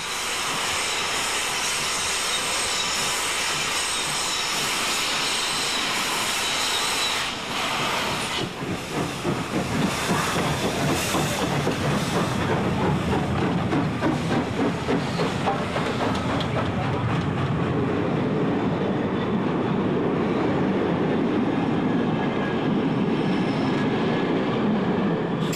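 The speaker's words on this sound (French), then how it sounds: "cette mélodie d'une locomotive à vapeur travaillant à pleine puissance" The Swiss steam locomotive C 5/6 Elefant works hard on the Gotthard grade, a loud hiss of steam giving way to rapid, rhythmic exhaust chuffs that build and continue at full power.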